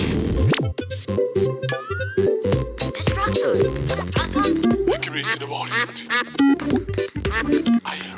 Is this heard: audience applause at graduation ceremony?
no